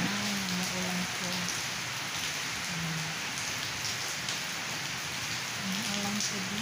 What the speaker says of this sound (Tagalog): ulan na hapon sa inyong tanan. Umuulan po.